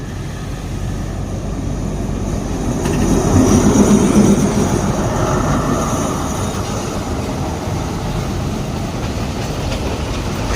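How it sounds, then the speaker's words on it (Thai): Commuter train 342, an Alsthom diesel locomotive hauling carriages from Kaeng Khoi Junction toward Bangkok Hua Lamphong, rumbles into Chiang Rak station in Thailand with a loud, continuous roar that swells and then settles. "มาชมขบวนรถชันเมืองที่ 3 4 2 นะครับ ชุมทางแก่งคอยไปทางกรุงเทพหลลำโพนครับ ที่กำลังจะเข้า จอดรับส่งผู้โดยสารที่สถานีเชียงรากนะครับ"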